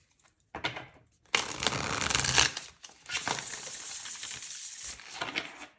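Tarot cards being shuffled by hand, a dry papery riffling and slapping in a couple of loud bursts with short pauses between, close to the microphone in a quiet room.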